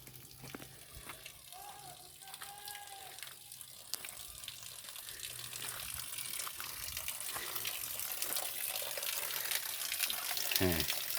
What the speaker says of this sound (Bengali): পাথর কোয়ারি দেখতে দেখতে চলে এলাম ছোট একটি ঝর্ণা।